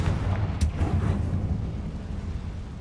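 A Confringo blasting spell explodes in Hogwarts Legacy, a loud deep rumbling boom with a sharp crack early on, sustained low-end roar across the whole moment, no talk.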